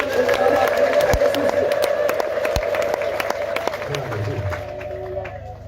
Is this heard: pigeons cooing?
no